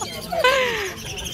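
A lovebird at an open bird market in Obando, Bulacan gives a short, sharp chirp with a rising then falling whistle, clear and close against quiet background murmur.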